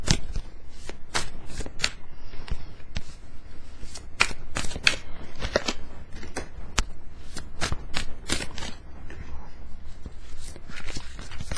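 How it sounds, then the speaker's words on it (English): Tarot cards being turned the right way up and handled: steady close clicks, flicks and soft rustles of the deck, repeated throughout with no break. "I'm going to turn these cards around so that they're the right way up."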